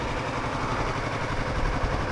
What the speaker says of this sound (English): Just idling, it sounds like that.